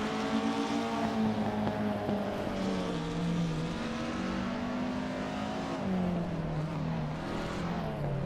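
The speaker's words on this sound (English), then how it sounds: "Let's have some fun watching these AI race cars, who knows what kind of crazy things they'll pull off." Several AI-driven 1950s Formula 1 race cars in a racing video game at Bahrain Circuit, engines droning and shifting pitch continuously at high revs, loud and close with no break or talk.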